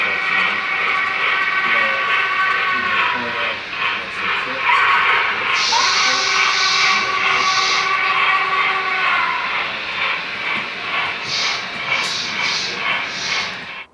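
Model railroad locomotives on a layout play digital sound effects: a continuous engine hum with repeated horn or whistle blasts and a brake hiss, fairly loud and steady throughout, with no voices over it.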